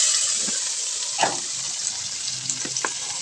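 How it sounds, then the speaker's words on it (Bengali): Salted, turmeric-coated rui fish pieces frying in hot oil give a steady bright sizzle, with a few soft pops and bubbling bursts, close and constant, and no talking. "কেটে এখন নুন হলুদ মেখে এখন দেখো তেলে ছাড়ছি"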